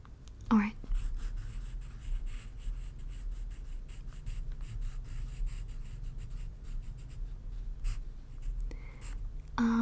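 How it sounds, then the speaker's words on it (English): A pen scratches out notes in a quiet room, soft close-up strokes in short bursts with brief pauses, plus a couple of faint breathy whispers at the start and end. "let's just go ahead and write those down that you liked"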